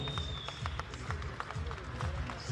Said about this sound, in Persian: همه سالن میخوام تشویق بکنید جانانه شیرپسر